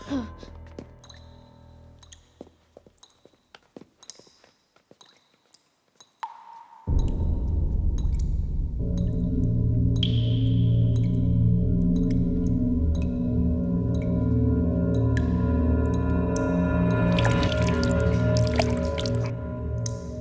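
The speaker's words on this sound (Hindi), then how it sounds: "पानी लीक हो रहा है टेरेस पर।" Water leaking on a terrace drips in sparse, irregular plinks and taps for several seconds, then a loud, steady droning hum swells in and largely buries the drips.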